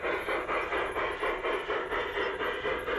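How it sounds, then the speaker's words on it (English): A model cattle train runs on an elevated garden railway layout in a landscaped backyard, giving a steady, continuous rhythmic clatter that pulses evenly throughout with no voices. "as we watch the cattle train go by, let's follow it around the layout"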